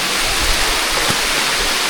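A waterfall at Phu Pha Man gives a steady, dense rush of falling water, loud and close, running unbroken throughout with no voices.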